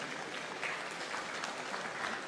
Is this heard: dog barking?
no